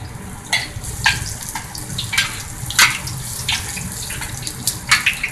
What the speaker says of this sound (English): turn it down until you still see a little bubbling